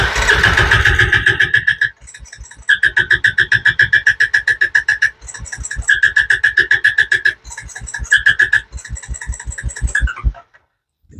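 A 2017 Honda Recon 250 ATV with a gummed-up carburetor cranks repeatedly with the choke on, the starter chugging in loud rhythmic bursts separated by short pauses, never catching, close up.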